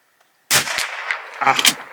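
A Bergara B14R rifle fires Eley Standard .22 ammunition outdoors: a sharp crack after brief silence, followed by a short burst of further impulsive reports and clatter.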